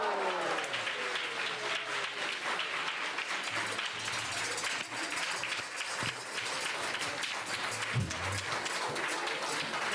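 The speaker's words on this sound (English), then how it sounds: "Let's give them one more big round of applause" A temple audience at ISKCON Dallas gives a long, steady round of applause, dense and sustained throughout with faint crowd murmur underneath.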